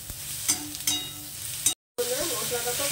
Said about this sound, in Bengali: মশলাটাকে একটু খুব ভালো করে কষিয়ে নেবো, টমেটোর কাঁচা ভাবটা চলে যাবে আর কি